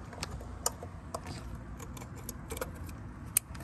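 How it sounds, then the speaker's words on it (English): Electrical connector clips pressed into place on a Honda Pilot or Odyssey engine during a spark plug replacement, with faint scattered sharp clicks and small plastic rattles over a quiet background. "I'm just gonna go ahead and put the clips in for the connectors."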